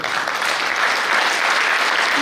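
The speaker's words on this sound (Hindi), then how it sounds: "सम्मान करेंगे आपकी जोरदार तालियां" Audience on a padyatra stage event applauding as Mahesh Pujari is honored, a loud continuous wash of many hands clapping from a crowd nearby, with no talking over it.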